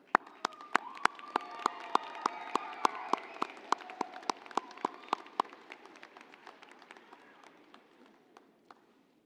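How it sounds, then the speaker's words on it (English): Graduates clapping for their families at a fall university commencement, a thin scatter of sharp individual claps over a soft crowd wash in a large hall, gradually thinning and fading out. "give them a round of applause"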